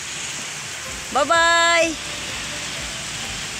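Steady rain falls outdoors as a broad, continuous hiss throughout, with a person briefly calling out a farewell over it.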